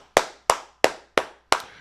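Five sharp, close hand claps land at an even, unhurried pace, each ringing out briefly before the next, with silence between and no talking.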